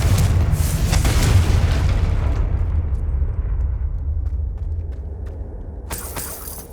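Confringo fire spell explosions in the Hogwarts Legacy video game, with a loud, deep booming blast that rumbles and fades over several seconds, then a sharper burst near the end.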